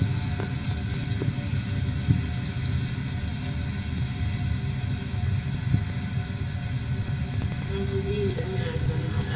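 Chakralu dough fries in hot oil, giving a soft continuous bubbling sizzle at low level with faint background rumble throughout.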